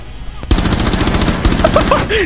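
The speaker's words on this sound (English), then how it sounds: "You shoot me through the window!" Rainbow Six Siege gunfire: after a brief quiet lead-in, a loud rapid automatic burst of evenly spaced shots runs steadily to the end, with faint voices in the background.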